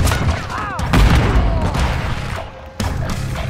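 Gunfire in a Call of Duty: Modern Warfare III match, a loud dense barrage of shots and booms running continuously with a brief dip near the end.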